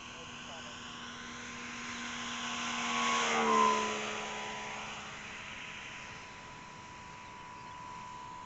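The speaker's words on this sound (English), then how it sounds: "I'm going to do a really low pass down the runway." A radio-controlled LX P-40 warbird model plane with a 79-inch (2000 mm) wingspan sweeps low down a runway at about half throttle. Its steady engine drone swells as it passes close, peaks, then fades with a shifting pitch.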